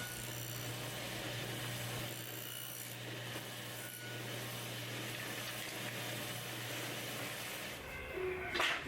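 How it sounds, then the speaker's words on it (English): A table saw fitted with a flat top blade cuts a dado channel in a wooden shelf, a steady rasping whine and rub running continuously for most of the stretch before dropping away near the end. "The blade that I'm using in the table saw is a flat top blade."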